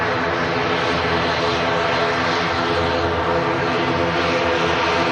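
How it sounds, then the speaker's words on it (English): Turboprop engines on an ATR aircraft drone loudly and steadily at close range at Manchester Airport, a dense propeller hum with a faint pulsing beat that continues without a break. "Beautiful sounding ATR."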